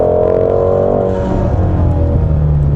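2017 Ford Mustang GT350 on the road, its engine droning loud and close with a steady rumble and a slight pitch fall partway through, no talking over it.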